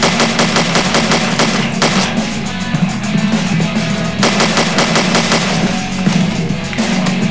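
Rapid gunfire in the Slendytubbies: Growing Tension survival game's Red Room wave, with dense repeated shots rattling steadily over a loud low music bed throughout.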